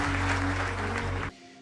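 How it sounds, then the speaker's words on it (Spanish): Dense, steady applause from a church congregation over a low sustained musical drone, cutting off abruptly near the end. "Dale un fuerte aplauso a nuestro Dios"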